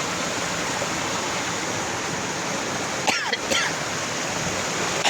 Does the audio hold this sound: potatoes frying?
no